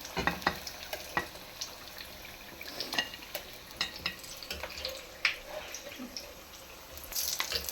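Potato chips deep-frying in hot oil, a steady crackling sizzle with scattered sharp pops and spatters throughout, with occasional clinks of a utensil lifting them out.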